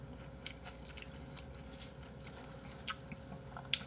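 Crunchy spring flounder sashimi is chewed close to the microphone, with quiet, irregular bites and crunches over a faint steady hum.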